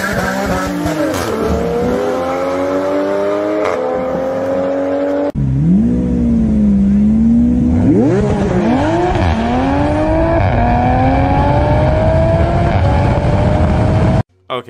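A lightly modified Toyota Mark V Supra races a Lamborghini Aventador. Loud engines roar and rev continuously with rising gear-change sweeps and tire squeal, a sharp shift midway, then a sudden cutoff near the end.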